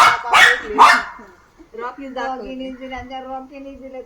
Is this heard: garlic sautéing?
no